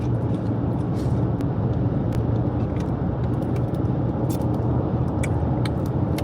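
A car drives along the A50 in England on a road trip to Manchester, its steady engine and tyre rumble heard from inside the cabin, continuous and fairly loud with faint occasional ticks and no talking.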